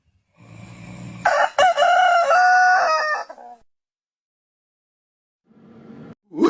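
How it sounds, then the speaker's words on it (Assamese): A rooster crows loudly and close, one long strained cock-a-doodle-doo lasting a couple of seconds, followed by silence and the start of another call near the end. "প্ৰথমে মুৰ্গীটোৱে ৰুমত সোমাই বিচনাত উঠি কাণৰ ওচৰত দাগ দিলেগৈ।"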